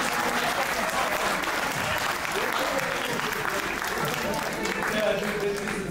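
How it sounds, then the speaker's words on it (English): Sustained audience applause fills a hall during a talk about a book on apartheid-era history, steady clapping at even volume throughout with a hint of voices mixed in. "And we clap your hands"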